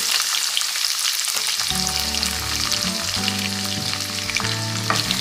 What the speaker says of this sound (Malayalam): നോൺ സ്റ്റിക്ക് പാത്രത്തിൽ എള്ളെണ്ണ ചൂടാവുന്നുണ്ട് അപ്പോൾ വെളുത്തുള്ളി എണ്ണയിലേക്ക് ഇട്ടു